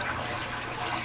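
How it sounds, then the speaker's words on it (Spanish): Orange juice, three quarters of a cup, pours for a homemade holiday drink as a steady, continuous liquid rush, close and moderately loud with no talking. "vamos a empezar por 3 cuartos de taza de jugo de naranja"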